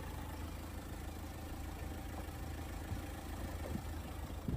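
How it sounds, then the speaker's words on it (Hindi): A Mahindra Thar Roxx 2.2-litre inline four-cylinder D22 mHawk common-rail diesel idles in a steady low rumble, faint and even throughout. "तो ये है 2200 CC inline 4 cylinder D22 M-Hawk diesel engine 1600 बार common rail direct injection technology के साथ।"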